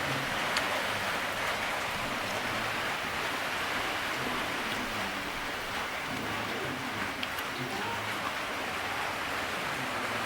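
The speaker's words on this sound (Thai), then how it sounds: "ฝนยังตกอยู่เลยพี่น้อง" Steady, heavy rain pours down continuously, a dense even hiss with no pauses.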